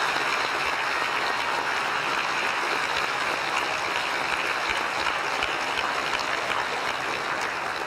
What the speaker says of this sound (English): Would you join me in giving both Marika a round of applause for her compassion and for those two people